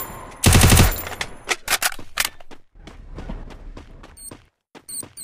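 Free Fire video game gunfire: a loud rapid automatic burst opens, followed by scattered single shots, clicks and thuds at varying distances, with no talking over it.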